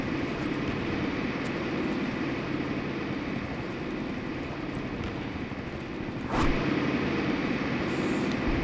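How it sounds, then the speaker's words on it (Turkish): Bomber planes pass overhead in a Commandos Strike Force World War II battle, a steady broad engine drone holding throughout with a brief louder swell near the end, no talk. "şu an bir bombardıman uçakları geçti"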